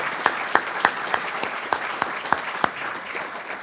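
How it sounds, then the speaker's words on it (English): Scattered audience clapping at a military change of command ceremony, a moderate crowd applauding with sharp individual claps standing out over a steady patter, continuing evenly without voices. "I'm going to give you a round of applause"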